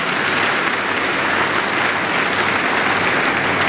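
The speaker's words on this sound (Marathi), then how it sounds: "म्हणून जोरात टाळ्या वाजल्या पाहिजे" Loud, dense applause from a seated audience at a guidance camp in Pandharpur, steady and continuous throughout with no pauses.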